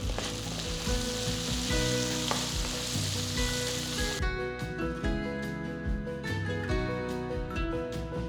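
Small sambar onions frying in hot oil for tomato bele bath, a dense steady sizzle with stirring scrapes and clinks, which thins noticeably about halfway through.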